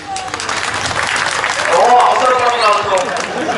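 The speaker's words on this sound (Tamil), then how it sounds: "நீங்க கை தட்டினீங்கன்னா" Audience at a village stage drama in Madurai clapping, steady dense applause throughout, with voices and music over it.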